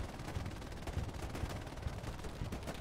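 Distant, faint bursts of rapid small-arms and machine-gun fire in the World War II shooter game Hell Let Loose, an uneven crackle of shots running throughout without speech.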